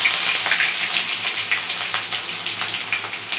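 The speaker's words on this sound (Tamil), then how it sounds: "பூண்டு தட்டி வச்சுருக்கோம், பூண்டு போட்டுக்கலாம்." Crushed garlic and fenugreek seeds frying in hot oil, giving a loud, steady crackling sizzle with dense spattering pops, close and continuous with no talk.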